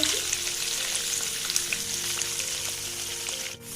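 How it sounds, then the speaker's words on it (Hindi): Paneer fries to golden brown in a pan for masala paneer, with a steady, close oily sizzle and crackle throughout and no voices. "बर्तमान देखो पनीर आम 2 साइड रो भाजी जाइए"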